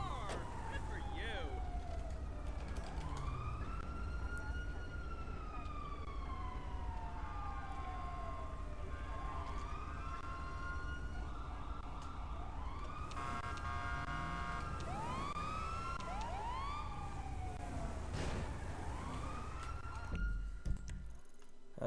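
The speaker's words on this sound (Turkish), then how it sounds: "Ambulans geliyor zaten onu almaya." An ambulance siren wails in rising and falling sweeps, loud and close, repeating over and over above a steady engine rumble with occasional talk in Turkish, heard from a gendarmerie traffic patrol vehicle at an accident scene.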